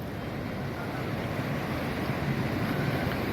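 Kaveri river floodwater rushing across the Mettur dam terminal road, a steady, loud broadband roar that holds constant throughout with wind buffeting the microphone.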